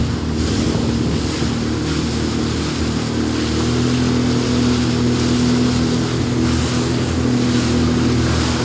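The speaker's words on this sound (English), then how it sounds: "Waves are getting big." A motorboat rides out big ocean waves off Cape Romano, with a steady broadband wash of water and wind buffeting the microphone, and a low engine drone running continuously beneath.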